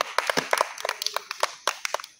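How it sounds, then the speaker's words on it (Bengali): A small group claps for Rabbi in quick, uneven bursts. The sharp claps are close by and irregular, with a few faint voices in the gaps. "রাব্বির জন্য সবাই হাততালি।"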